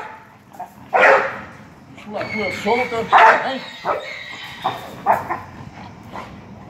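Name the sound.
dog barking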